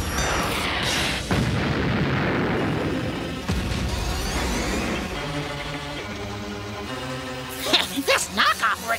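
A cartoon weapon of destruction fires at a testing range, with a steady roaring blast giving way to a run of loud booming bursts near the end, mixed with cartoon sound effects.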